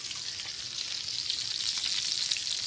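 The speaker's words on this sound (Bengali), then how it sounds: "মাছ ফ্রাই চলছে" Fish frying Pakistani style in a pan of oil, a steady bright sizzle that swells slightly louder toward the end, close and uninterrupted, with no voices.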